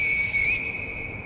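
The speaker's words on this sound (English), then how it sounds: "That's the regular whistle, so you get to hear the noise." A high, sustained whistle from the video game Sekiro sounds for about half a second, rising slightly before fading, over a low steady background hum.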